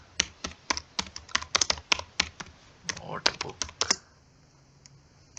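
Close computer keyboard keys clack in quick irregular bursts while someone types a task into a task manager app, then the typing stops.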